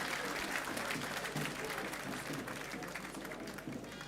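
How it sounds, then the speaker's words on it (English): Steady audience applause fills a parade ceremony honoring a Comptroller General of Immigration, a dense continuous clatter of many hands from a large outdoor crowd, sustained evenly throughout with no speech over it. "Please, another round of applause for this icon."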